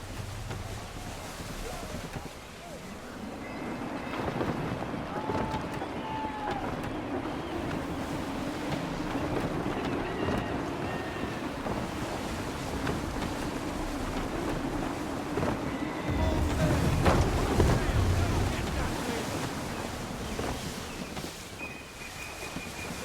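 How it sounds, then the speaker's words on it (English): A sailing ship at sea in the video game Assassin's Creed 3 rides through gusty wind, with a steady roar of wind and rushing water swelling louder toward the end. "Wind looks to be shifting. Stay alert, Connor. Gusty winds can be difficult to manage."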